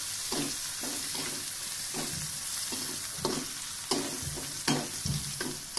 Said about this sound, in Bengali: পেঁয়াজ রসুনগুলো ভেজে নিচ্ছি, মরিচ সহ।